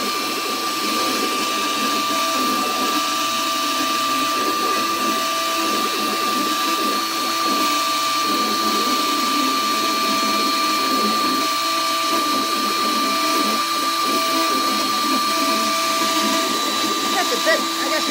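An X-Carve CNC router carving a US Coast Guard plaque, its bit chattering a little, gives a loud, continuous high whine with a rough grinding texture that holds steady from start to finish.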